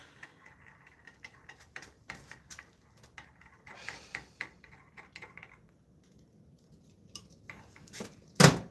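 Food is stirred in a hot pan outdoors, with scattered light clicks and scrapes of a utensil on metal, sparse and close, ending in one louder clatter.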